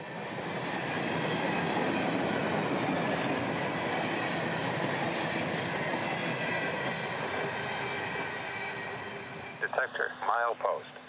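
A CSX work train made up of Herzog-Dallas cars rolls past close by, a continuous loud rumble of wheels and rail clatter that eases slightly toward the end, where a voice starts talking.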